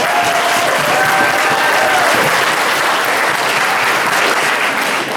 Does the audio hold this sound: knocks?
no